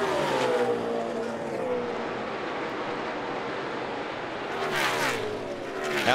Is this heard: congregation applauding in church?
no